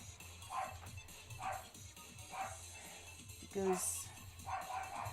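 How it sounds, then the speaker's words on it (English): A dog barks several times at a distance in a household, short evenly spaced barks mixed with someone talking nearby. "Dog decided to bark."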